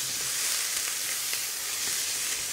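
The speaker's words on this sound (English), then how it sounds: "you can hear that really, really nice sizzle" Chopped onions sizzle in a hot pot on the stove, a steady, faint frying hiss heard alone.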